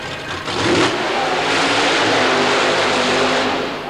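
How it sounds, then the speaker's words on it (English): A racing engine roars and revs hard as a Ford-engined 1932 coupe charges through a super modified mud racing run in Baltimore, 1990, loud and sustained with a rising, straining pitch. "Charlie Stoltzfus from Pennsylvania with a Ford engine in this 32 coupe."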